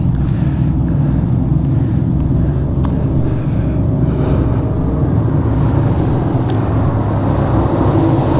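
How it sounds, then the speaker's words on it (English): Road traffic rolling past nearby, a loud continuous rumble and hiss of passing vehicles with a few brief higher squeaks, and no voices. "there's never used to be this much traffic here."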